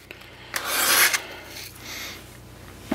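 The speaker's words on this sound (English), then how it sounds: "I'll give it a some sharpening," A Glock 81 field knife blade is stroked against a sharpener in one loud, gritty rasp, followed by a softer second scrape; close and alone, with no talking.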